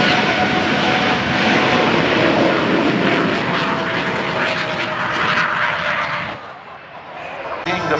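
Aircraft engines at an Oregon airshow run up to maximum power for a race, a loud, steady roar that holds for about six seconds and then falls away sharply.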